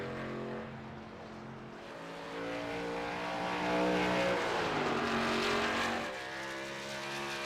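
Race car engine droning steadily on a short-track timed lap at The Rock, rising in pitch and loudness mid-pass before settling back, heard from a distance with no talk.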